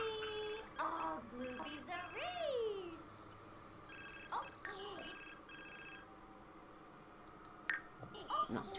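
A telephone rings in a busy home, its repeated electronic ring tones sounding under overlapping voices, clicks and household clatter.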